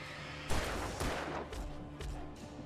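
Rapid bursts of gunfire in Alan Wake Remastered on Xbox Series S, several shots a half second apart, fairly quiet and muffled, with no talk over them.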